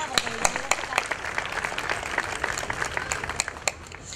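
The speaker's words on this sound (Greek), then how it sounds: "Για να τους δώσετε ένα χειροκρότημα" Crowd applause for neighbourhood police officers at an outdoor community event in Davaki Square, Kallithea, Athens, with steady dense clapping and a few sharper claps over about four seconds, fairly close.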